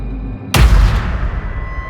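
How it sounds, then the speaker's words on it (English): A single sharp gunshot cracks out after a moment of low rumble, followed by a long, booming reverberant tail that fades slowly. "a gunshot fired."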